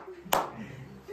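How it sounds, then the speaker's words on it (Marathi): A single sharp hand clap rings out once over a low background murmur, with faint voices around it at an outdoor gathering for a new electric bike. "टाळ्या वाजव."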